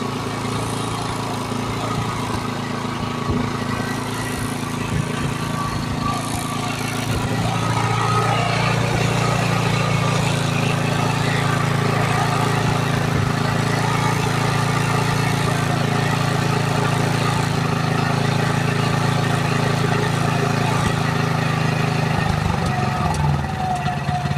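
A gasoline farm machine engine runs continuously after being started, a loud steady drone that grows fuller partway through and holds until a brief drop near the end, heard alone without talk.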